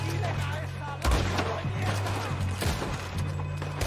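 Gunfire in the video game Red Dead Redemption 2, a few sharp shots cracking over steady game background noise, with a person talking throughout.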